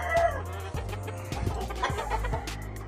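Big Kelso hens cluck on a farm, a steady close run of short clucks and throaty calls with sharp pecking knocks scattered through.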